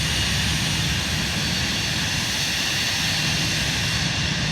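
The Cirrus Vision Jet's engine in Microsoft Flight Simulator gives a loud, continuous jet roar with a steady whine, unbroken throughout and with no voices over it.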